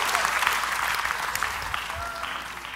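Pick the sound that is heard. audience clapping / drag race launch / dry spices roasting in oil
audience clapping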